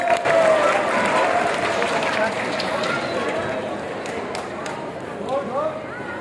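Applause from a school audience at a national math festival in Dhaka, a dense steady wash of clapping with crowd noise and voices, fading slightly toward the end with a few cheers.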